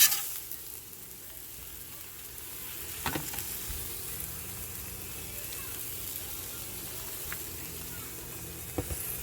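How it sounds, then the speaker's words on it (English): A pork chop fries in olive oil on a Blackstone griddle, producing a steady, close sizzle with a few sharp crackles and pops. A voice speaks briefly over the frying. "Go ahead and flip the pork chop, see what it does."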